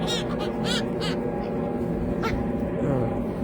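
Birds gathered close at a person's feet give loud honking, goose-like calls in short bursts over a dense, steady outdoor background, with talk mixed in.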